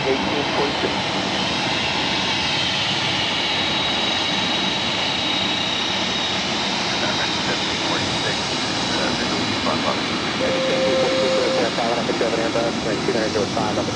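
A jet airliner roars steadily on takeoff from runway 25 right at LAX, a broad sustained engine rumble heard from a distance for the whole stretch, with radio voices talking over it.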